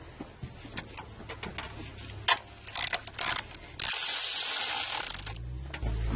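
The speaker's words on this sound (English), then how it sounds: "I'm gonna get help from the cordless ratchet" A cordless ratchet loosening a 13mm nut on a Toyota Sienna 3.3 during an oxygen sensor replacement, giving short mechanical clicks and bursts, then a longer loud whirring run near the end.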